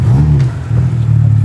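A car engine roars loud and close, holding a strong, steady revving drone that dips briefly midway before surging back.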